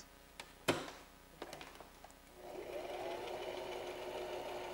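A sewing machine runs steadily, stitching a fabric baby bib, preceded by a few sharp clicks and taps before the motor settles into a continuous hum at moderate distance.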